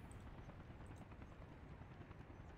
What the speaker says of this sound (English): We got a chopper and four fire trucks.